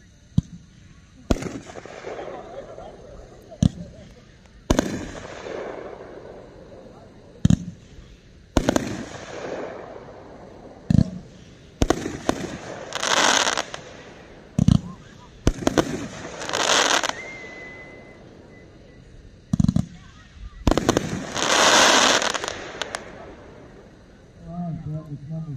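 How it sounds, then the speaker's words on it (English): A 21-shot FSF multi-shot firework cake called Juice fires a rapid series of sharp launch thumps and crackling bursts outdoors, loud and irregular over about 25 seconds, with people talking in the background. "Number 74 from FSF, 21 multi-shot cake called juice."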